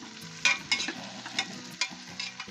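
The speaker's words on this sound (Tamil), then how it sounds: "இப்போ வந்து பெரிய வெங்காயம் சேர்த்துக்கலாம்" Large onions frying and being stirred in a pan for biryani made with ration rice, a steady close sizzle broken by several sharp scraping stirs, with no voices.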